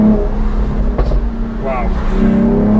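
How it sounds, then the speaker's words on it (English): A 2022 Mercedes-AMG E53 Cabriolet on overrun, a close engine drone broken by a sharp exhaust crack near the middle, with a voice speaking over it. "Overruns, you have these amazing crackles."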